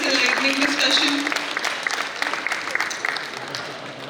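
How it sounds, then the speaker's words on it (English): Sustained audience applause at a healthcare conference, honouring the panel after a discussion session. Dense, steady clapping fills the whole stretch, with a voice briefly audible near the start. "Can we have a big round of applause for our panelists for this enlightening discussion?"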